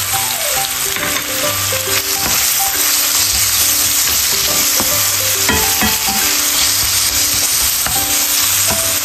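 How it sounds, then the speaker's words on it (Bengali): Onion frying and being stirred in a pan for Bangladeshi-style beef curry with potatoes, a loud continuous sizzle broken by repeated scraping and clattering strokes of a spoon. "এই যে পেঁয়াজটা দিয়ে দিব।"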